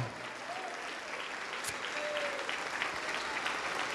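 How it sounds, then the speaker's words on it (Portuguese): A church congregation applauding during a sermon, continuous even clapping from many hands at moderate distance that holds steady throughout without pause. "vamos aplaudir, igreja"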